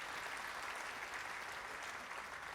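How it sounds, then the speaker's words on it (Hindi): An audience at a poetry recital claps in a dense, steady burst of applause with an even, sustained roar throughout, heard from a moderate distance. "तालियां बजाकर मुझे आदेशित बताएं, मैं करता हूं।"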